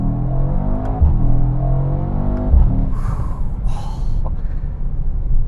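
A 2021 Mercedes-AMG E63S Wagon with a 4-liter twin-turbo V8 heard from the cabin, its engine note rising and dropping with two sharp downshift blips, followed by a breathy exhale and a steady low rumble.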